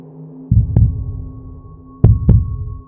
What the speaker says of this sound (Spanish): El frasco en mi bolsillo palpitaba al ritmo de mi corazón acelerado